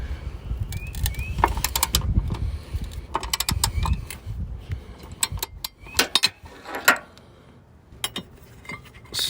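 Ratcheting socket wrench working a rock rail bolt on a 2021 Ford, giving close, irregular bursts of clicking ratchet sounds with metallic creaks and knocks between pauses.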